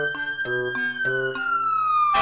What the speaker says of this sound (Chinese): 这就是警车的警笛声